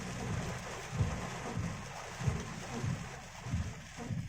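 Heavy rain pours down on an outdoor work site, a steady broad hiss with dull low thumps and faint muffled voices underneath.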